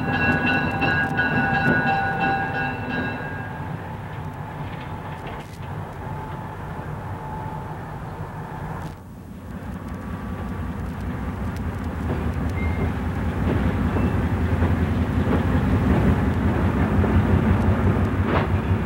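An eastbound passenger train on the Nickel Plate Road rumbles and squeals into a station stop at South Whitley in 1959, its horn sounding early, then wheels clatter rhythmically as the heavy rolling noise slows and builds again.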